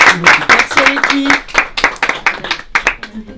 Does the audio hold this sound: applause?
yes